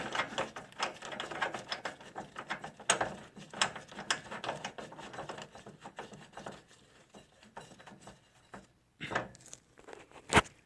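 A ratchet clicks in quick bursts while tightening a bolt on a John Deere GX95 riding mower, pausing, then giving a few final sharp clicks and metallic knocks.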